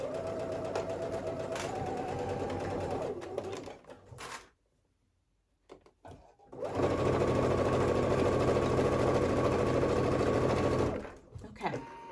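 A sewing machine runs steadily while stitching the raw-edged seam of a tank dress, loud and close, stops for about two seconds, then starts again in another long continuous run.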